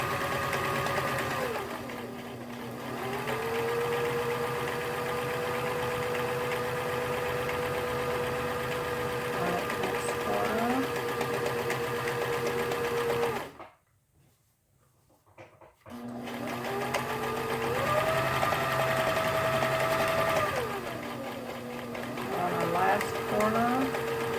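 A sewing machine stitching thread through fabric around a curved corner, a close steady whirring run that stops briefly in the middle, then starts again.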